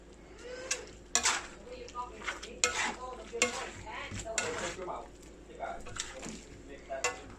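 A spoon stirs pork dinuguan in a cooking pot, scraping and clanking against the metal in irregular strokes, with a soft simmering sizzle underneath. Someone talks now and then in between.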